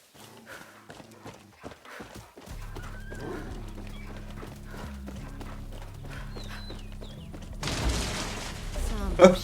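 Horses in the video game Far Cry 6, clip-clopping hooves and occasional neighs under a steady low in-game hum, with a person talking over it and a louder burst of noise near the end.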